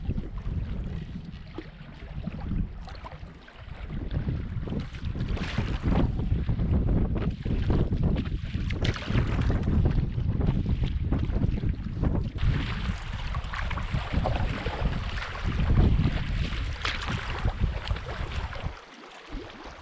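Wind buffets the microphone during a solo canoe trip in the Wabakimi boreal lakes, a loud, continuous low rumble and gusty rush with water lapping beneath it. Nobody speaks.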